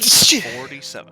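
A single loud, close human sneeze, with a sharp burst of breath and then a brief muttered word.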